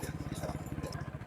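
Motorbike riding along a smooth concrete road toward a river, its engine giving a steady, rapid low pulsing throb close by, with light road rumble and no talk.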